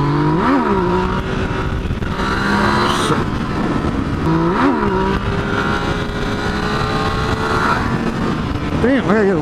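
A motorcycle engine revs hard during a wheelie, heard close and loud over constant wind rush, with several rising and falling revs spread across the stretch.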